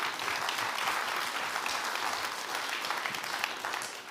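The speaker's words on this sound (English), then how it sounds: "Give a warm round of applause." A crowd at the 2022 De Gouden Noot packaging innovation award ceremony breaks into a warm round of applause, a dense, steady patter of many hands heard alone at moderate distance for about four seconds.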